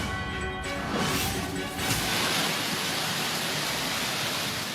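Swollen river in flood after heavy typhoon rains in Catanduanes, a broad, steady roaring rush of water filling the scene, loud and continuous, with a brief burst of a voice at the start.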